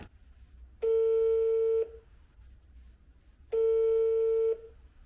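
Telephone call ringing unanswered, two long electronic ring tones about a second each, separated by a quiet gap.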